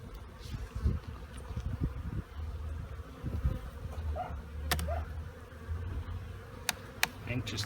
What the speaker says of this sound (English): It's a lot of young bees.